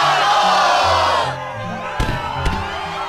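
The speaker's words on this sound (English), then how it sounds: "the crowd is fired up" Crowd cheering at the Struggle tournament in Kingdom Hearts 2: a loud, energetic roar of many voices that fades partway through, followed by a couple of sharp thuds.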